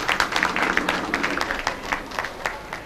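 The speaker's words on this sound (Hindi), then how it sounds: "तालियां हो जाए उनके लिए," Audience applause at a women's honour ceremony, a crowd of many hands clapping in a quick, uneven patter that stays fairly loud and close throughout.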